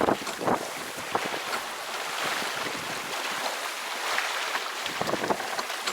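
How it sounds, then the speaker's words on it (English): A sailboat heels along in freshening wind on open ocean, with steady gusty wind rushing across the microphone, water hissing and splashing along the hull and waves slapping irregularly, loud and continuous with no voices. "Get a little bit more wind. We're doing some sailing now."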